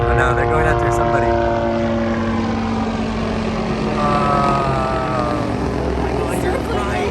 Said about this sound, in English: the chopper has landed